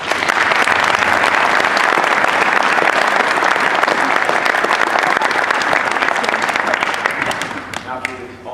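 A crowd applauds a homecoming state championship wrestling team, loud continuous clapping that fills the space and fades slightly at the end, with a few voices rising under it.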